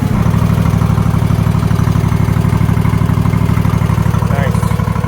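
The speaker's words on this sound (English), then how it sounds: "Idles like a champion." A John Deere LX277 lawn tractor engine idles steadily and close up, a continuous low rhythmic thrum with even firing pulses and no break throughout.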